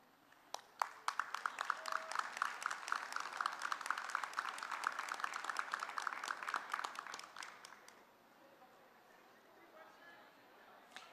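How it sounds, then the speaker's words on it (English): An audience claps for their loved ones at a graduation convocation, with dense, sustained applause for several seconds that then fades to quiet room tone. "give them a round of applause"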